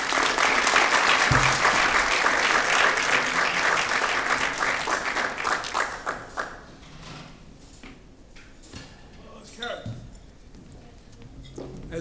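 Applause from a dinner audience welcoming a speaker, Dr. Marc Landy, at a Constitution Day dinner; dense loud clapping for about six seconds, then thinning to scattered claps and quiet room noise.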